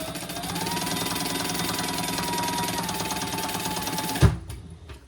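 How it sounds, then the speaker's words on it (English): A sewing machine stitches down both sides of folded fabric caddy handles with a fast, close mechanical whir that holds steady for about four seconds. It stops with a clunk, and quieter handling follows. "now I'm just going to stitch down both sides"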